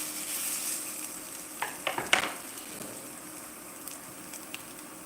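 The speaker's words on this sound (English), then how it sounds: "we're just going to put a little bit of olive oil in there. Just until the sausage starts rendering fat out." Sausage frying in a little olive oil in a pan, a soft continuous sizzle broken by a few sharp crackles and spatters near the middle, close by with no voices.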